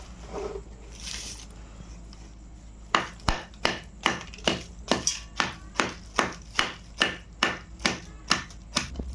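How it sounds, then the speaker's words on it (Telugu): Jaggery blocks are pounded into fine pieces with a steady run of sharp, close knocks, about two per second, after a few seconds of quieter rustling. "రెండు అచ్చులు కూడా మెత్తగా కొట్టేసుకోవాలి గడ్డలు లేకుండా"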